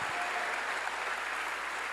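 Steady applause from a church congregation during a sermon, a dense even wash of clapping holding at one level throughout with no voices.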